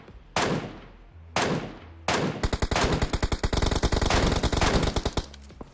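Automatic gunfire in the mobile battle royale game PUBG Mobile: three separate loud shots with ringing tails, then a sustained rapid burst of close, heavy machine-gun fire running to the end, with no talking.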